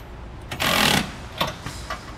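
Nuts on U-bolts are snugged down during an RV suspension installation, heard as a close burst of rattling power-tool whir followed by a couple of shorter rattling bursts.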